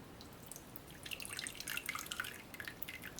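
Roast turkey juices are poured in a small stream in a home kitchen, a faint, close trickle broken into scattered light drips and splashes, with no one talking.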